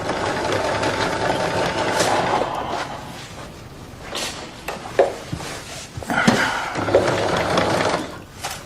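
A domestic sewing machine stitches a torn shirt indoors, giving a continuous mechanical whirring and knocking. It pauses and restarts with a few clicks and handling thumps near the close.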